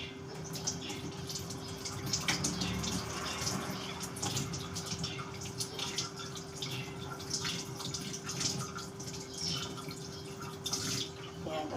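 Running water streams steadily as celery leaves (kinchay) are rinsed under a tap in a home kitchen, a continuous close splashing with occasional louder splats and drips throughout.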